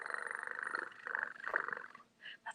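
Young voices make a rumbling purr together, imitating a contented cat, fading out near the end.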